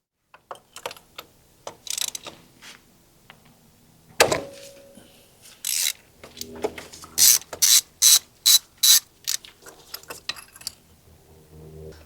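A hand ratchet loosens spark plugs on a 2012 Mini Cooper Countryman S, sounding as scattered mechanical clicks and then a series of sharp, evenly spaced ratcheting bursts, close and crisp.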